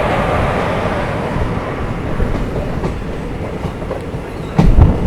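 The Kacheguda-Chengalpattu Express rolls through Royapuram railway station, a loud, close rumble of wheels and carriages with rhythmic clatter and a sudden heavier burst near the end.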